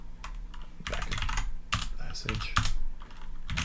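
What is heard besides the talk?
typing a shell command on a computer keyboard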